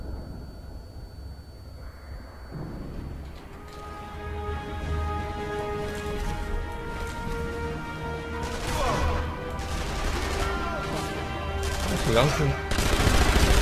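Gunfire in the video game Sniper Elite V2, repeated shots and crashing impacts over a steady rumbling game backdrop that swells toward the end, with someone speaking German briefly over it.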